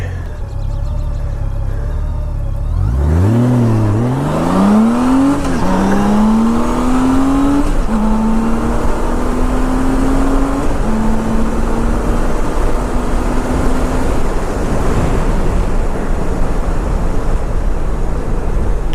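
A Honda Goldwing touring motorcycle's powerful engine revs up hard and climbs steadily through the gears, rising in pitch with each pull, loud and close with wind and road noise underneath.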